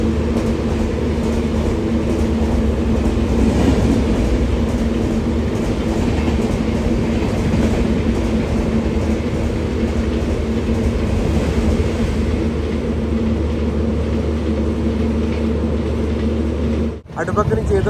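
Steady rumble and rhythmic rattle from aboard the Anakapalle to Secunderabad Special Fare Express, train 07056, loud and continuous with a brief dip near the end.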